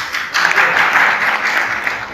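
Crowd applause at a Bhim Army rally in Basti, a steady, dense clapping that swells after a brief quieter start and holds evenly for about two seconds.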